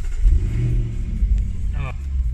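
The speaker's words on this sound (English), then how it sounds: "And to bring that big 5-liter supercharged V8 to life," Jaguar F-Pace SVR with a 5-liter supercharged V8 firing up, a deep rumbling engine roar at close range, with a voice briefly heard at the end.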